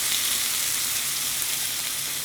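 Chopped tomatoes and onions sizzle steadily in a pan, a loud, continuous hiss of frying with no pauses or voices.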